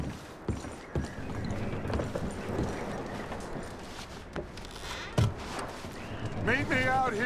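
Horse hooves clip-clop in Red Dead Redemption 2, a steady moderate-level patter that runs under game music and scattered effects, with a sharper knock near the end.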